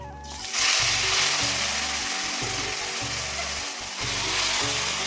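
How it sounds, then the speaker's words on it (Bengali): Taro leaves dropped into hot oil tempered with bay leaf, chilli and nigella seeds, a sudden loud sizzle that swells and stays steady, with no talk. "এবার কচুর শাকটা দিয়ে দেবো"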